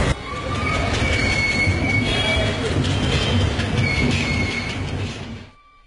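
A train at Badulla railway station in Sri Lanka rumbles loudly and steadily, with wheels squealing and a clickety-clack running under it, then cuts off near the end.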